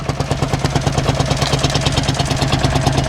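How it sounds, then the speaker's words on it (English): A vintage tractor pulling a cultivator at a rally chugs loudly and close, its engine thumping in a fast, regular beat with a rattling clatter throughout and no voices. "I love the chugging noise it makes. It's the noisiest tractor here."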